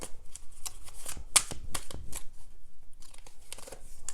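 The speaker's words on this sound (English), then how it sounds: "I'm getting 2 of these Lenormand cards." Lenormand cards are shuffled and drawn, giving a steady papery riffle and rustle with a sharper snap near the middle. The sound is close and fairly loud, with no clear talking.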